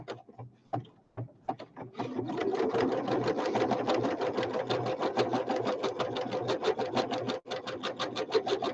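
Sewing machine stitching a honeycomb stitch on fabric: a few hesitant starts, then a fast, steady, loud rhythmic chatter of the needle running continuously with a brief pause near the end.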